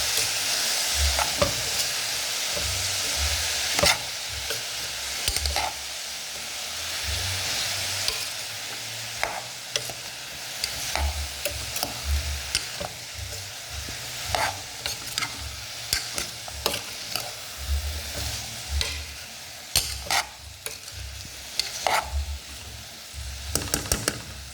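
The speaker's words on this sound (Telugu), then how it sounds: "వీటిని ఒకసారి కలుపుకుందాం." Bottle gourd curry frying in a pan while being stirred, a loud steady sizzle with frequent sharp spatula clicks and scrapes at an uneven pace, close up and without talk.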